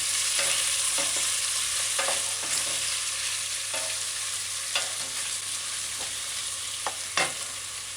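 Chicken chop suey with garlic and ginger stir-fries in a hot pan: a steady, loud sizzle broken by a series of sharp scraping strokes as the ingredients are tossed and stirred, with no talking.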